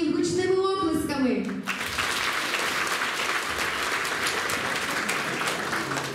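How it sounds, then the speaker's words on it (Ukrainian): Festival audience applauding loudly after a host's speech on stage, a dense sustained wash of clapping that follows a brief stretch of the host talking at the start and continues steadily to the end. "Давайте ще раз привітаємо їх гучними оплесками."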